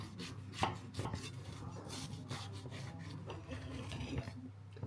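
A knife slicing through a tourticlette with cheese filling on a plate, giving soft scraping and crunching cuts that repeat at an irregular pace, close and fairly quiet, with no talking.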